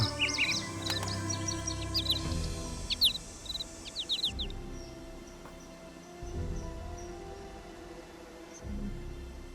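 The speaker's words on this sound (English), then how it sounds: "I think I missed that bird." Birdsong in the Nancy Drew game Ghost Dogs of Moon Lake: a run of quick high chirps and tweets over a soft outdoor ambience with insect hum, busiest at first, then thinning to a few faint calls.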